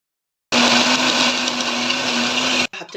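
A loud, steady electric blender mixing a batter of yogurt and flour runs for about two seconds after silence, then stops suddenly.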